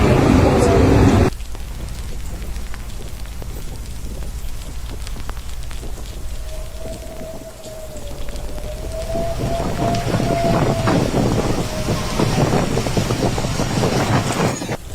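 Heavy rain roars in a raging storm over a flooded city in Yunnan, a dense, loud wash of downpour and wind with a brief low-pitched whine rising in the middle and no voices.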